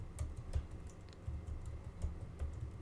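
Quick bursts of keystrokes on a computer keyboard, soft close clacking in an irregular rhythm with short pauses, no voice over it.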